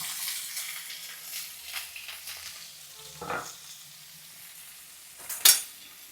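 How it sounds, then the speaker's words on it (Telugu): Onion pieces and green chillies frying in a pan make a soft, steady sizzle with a few louder stirring scrapes, and a sharp clatter near the end. "ఇలా దోరగా వేగిన తర్వాత ఉల్లిపాయ ముక్కలు, పచ్చిమిర్చి కొంచెం వేపుకోవాలన్నమాట"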